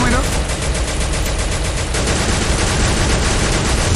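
Continuous rapid gunfire in a Free Fire zombie mode game, loud and dense with a constant saturated rattle of shots throughout, and voices partly buried under it.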